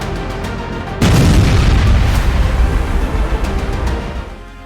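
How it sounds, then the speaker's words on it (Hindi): A single loud, deep boom from Russian artillery fire in Ukraine breaks a low background rumble about one second in, then trails off into a rolling, fading echo. "रूसी तोपखाना यूक्रेनी सेना के 221 मोर्चों पर अंधाधुंध हमले कर रहा है।"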